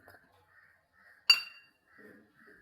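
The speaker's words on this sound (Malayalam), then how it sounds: "പിന്നെ ഒരു മുട്ടയും കൂടെ ഇട്ട് കൊടുക്കാം." An egg cracked into a bowl that already holds onion and green chilli, a single sharp clink of shell on the rim in the middle, with faint kitchen rustles before and after.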